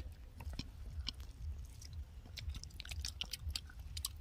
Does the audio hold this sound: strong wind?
no